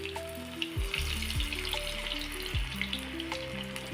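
Urad dal vada batter for sambar vada frying in hot oil, a continuous close sizzle with a few bubbling pops throughout, no talk.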